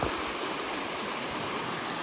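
Water gushes through a broken beaver dam in a loud, steady, broadband rush like a stream or small waterfall, close and unbroken.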